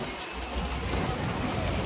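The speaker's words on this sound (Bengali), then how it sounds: "এটা হচ্ছে মেট্রো" A Kolkata metro train at Howrah station, heard as a steady, fairly loud rumble of rolling carriages filling the platform, with faint rail clatter and no clear voices.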